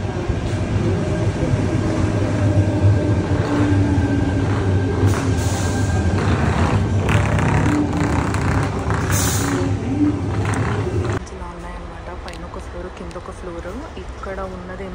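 A train ride heard from inside the carriage on a trip in Sydney: a loud steady rumble and rattle of wheels on rails, then a quieter stretch near the end, with people talking over it.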